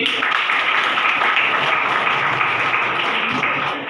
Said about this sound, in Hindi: अशोक कुमार जी के लिए जोरदार ताली